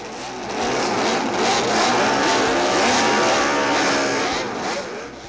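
Racing motorcycle engines roar loudly and continuously, many pistons blending into a dense, ear-splitting mechanical cacophony that swells and holds at full volume throughout.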